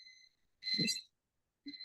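A timer alarm goes off with high electronic beeps, one longer burst followed by a short one, loud and close.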